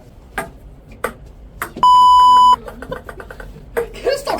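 A single loud, steady censor bleep lasting under a second cuts across people talking and laughing, the tone held flat before the chatter resumes.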